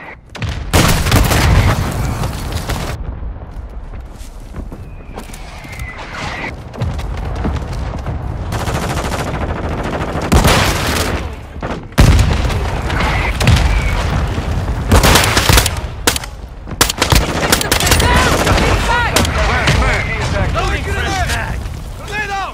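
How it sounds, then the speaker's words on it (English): Mortar strike blasts and gunfire in Call of Duty: Modern Warfare II, heavy booming explosions and crackling shots rolling on continuously and loud, with intermittent game voice announcements over the chaos. "Hostiles launch the mortar strike."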